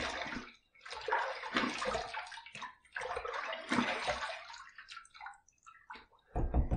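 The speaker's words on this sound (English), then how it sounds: "The cold water is going to accentuate a little bit, which is why I'm doing a cold water shave." Cold tap water runs and splashes in bursts as a face is rinsed during a cold-water shave with menthol shave soap, with brief pauses between splashes, close and fairly quiet.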